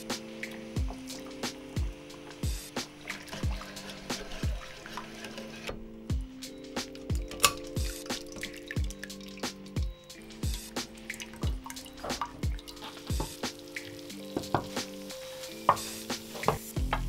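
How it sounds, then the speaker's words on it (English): Hot boiling water is poured into a pan of gravy for a chicken roast dinner and stirred, giving repeated sharp clinks of a utensil against the pan over a soft liquid swirl and light sizzle, close up, with no talking. "We're gonna add some hot boiling water, mix it all up."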